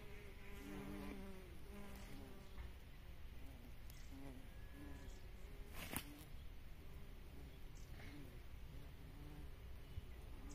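Bees and other insects hum around a flowering plant in a meadow, a steady close buzzing with soft outdoor background and faint birdsong.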